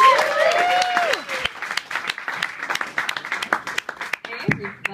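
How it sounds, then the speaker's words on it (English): An audience at a live music performance applauds, a dense patter of many hands clapping at moderate volume, while a voice talks over the start and the clapping continues with scattered sharper claps. "please give a round of applause, Emily Hecht, everybody."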